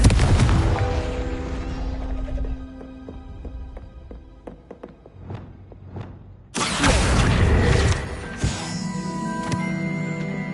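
A Confringo blasting spell in Hogwarts Legacy bursts as a sudden loud explosive blast after a run of ringing magical chimes and taps, followed by a sustained roaring wash.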